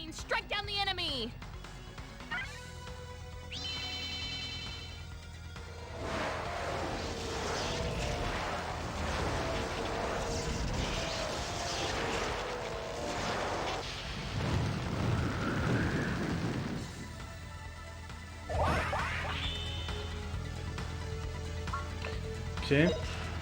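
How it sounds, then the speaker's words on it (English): Lightning spell striking enemies during a battle in the PS1 role-playing game Grandia, a loud rumbling thunderclap with rain-like hiss, sweeping tonal effects and music running throughout, plus a sharp burst near the end. "Oh, lightning! Strike down the enemy!"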